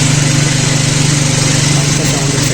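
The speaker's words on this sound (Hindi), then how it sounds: "बाइक का टैपेट चेंज होने के बाद बाइक का साउंड कुछ इस तरह का है" A Speed 400 motorcycle engine runs at a steady idle after a tappet change, a close, loud, even mechanical chatter with a constant low hum, with a voice talking over it.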